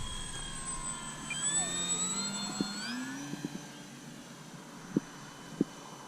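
Arrows Bigfoot model airplane engine in flight on a wet, misty morning, a high whining drone that shifts pitch as the plane turns, with a few sharp clicks near the end.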